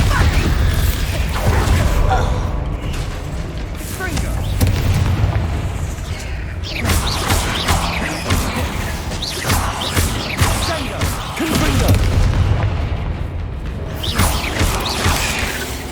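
Bombarda explosion spells go off in Hogwarts Legacy gameplay, with repeated booming blasts and crashing debris over a dense, continuous bed of combat noise and music, loud throughout.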